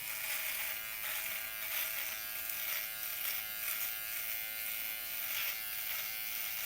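A Xiaomi 3-in-1 electric trimmer shaving the neck gives a steady, close electric buzz that holds without a break for the whole stretch.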